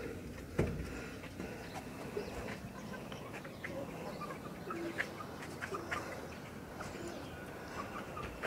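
Chickens on a rooftop poultry farm cluck and squawk continuously at moderate distance, a busy overlapping chorus with occasional sharper calls, alongside faint background noise and a brief thump near the start.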